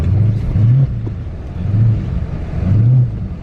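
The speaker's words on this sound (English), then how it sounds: "My car is literally cutting power, y'all. Y'all hear it?" A Dodge Charger Scat Pack engine in a snowstorm surges and drops repeatedly as it cuts power, its loud, close rumble rising and falling in an uneven rhythm over a few seconds.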